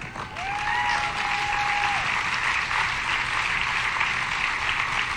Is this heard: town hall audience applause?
yes